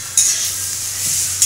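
Chopped ginger and green chillies frying with potatoes in hot oil for a samosa filling, a loud close sizzle with a couple of quick scraping stirs over a low steady hum, brief and wordless.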